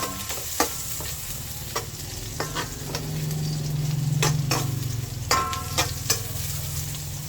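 Garlic fries in a pan with a steady, close sizzle while a utensil stirs and scrapes against the pan in scattered knocks.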